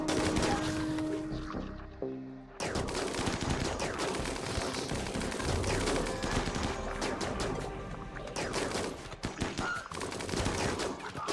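Sustained gunfire in the colony-building game RimWorld, dense overlapping volleys of shots rattling almost continuously with a brief lull, loud and close, with no talking over it.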